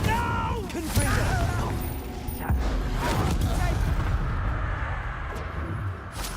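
A fiery Confringo spell blast from Hogwarts Legacy booms out in heavy bursts near the start and again midway, over a dense, rumbling combat mix with voices talking throughout.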